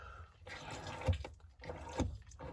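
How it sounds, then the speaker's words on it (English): Water released from the boiler drain valve of a motorhome, heard as two short gushing, splashing bursts with a trickling flow between them, close by. "If you lift that, that will actually release water out of your boiler."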